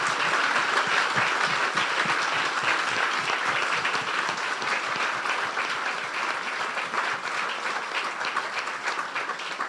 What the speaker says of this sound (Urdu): اس یسوع کے لیے زوردار تالیاں